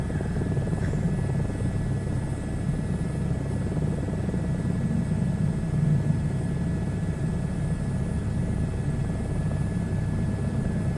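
Helicopter in a VR flight simulator, a steady, loud rotor and engine drone that holds evenly throughout with no pauses.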